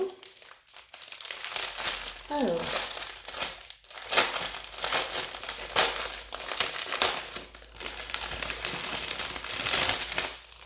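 Crinkling and rustling of plastic packaging as a diamond painting kit's bag of diamonds is opened, steady crackling handling noise close by throughout.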